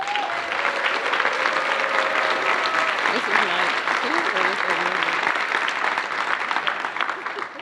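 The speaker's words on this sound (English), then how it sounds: "Please give them a round of applause." Conference audience at a state council meeting applauds committee members, sustained even clapping from a large room that tapers slightly at the end, with a voice briefly heard early on.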